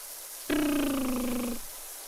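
Pet cat giving a single sustained meow, about a second long, clear and fairly close against a quiet room, with no one talking.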